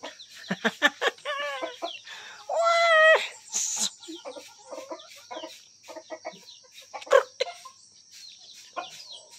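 Chickens clucking close by in short, busy bursts, with one longer drawn-out call partway through and scattered clicks and knocks around them.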